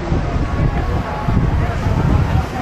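Wind buffets the microphone at the Raohe Night Market in Taiwan, a steady low rumbling roar that stays loud and close throughout, with no clear voices.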